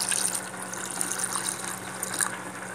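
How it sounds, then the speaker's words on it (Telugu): Water poured into a pot for ragi sangati with boiled rice, a soft continuous splashing pour heard close and alone, faint and even throughout. "స్టవ్లు తీసుకుని ఇందా మనం తీసుకుని వాటర్ మొత్తం పోసుకుందాం."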